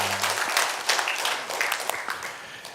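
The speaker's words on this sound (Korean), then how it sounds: "하나님께 영광의 박수 올려드리겠습니다." Brief, busy clapping from a Korean church congregation during a Sunday worship service, a rattling burst of many hands that holds steady and fades slightly near the end.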